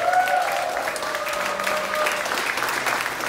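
A church congregation applauds, a steady wash of many hands clapping together with some voices and cheers mixed in, sustained throughout.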